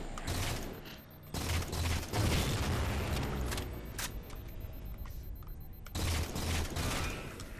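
Turret gunfire in Halo 4 on Legendary difficulty, heard as sustained bursts of rapid shots with booming impacts and mechanical clatter, fairly loud and broken by a couple of short pauses.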